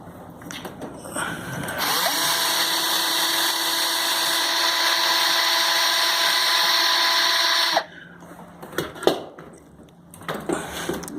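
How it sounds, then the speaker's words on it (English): A power drill whines steadily for about six seconds during an axle repair, loud and close, then cuts off, leaving clattering handling noises. "I'm going to just start using the drill."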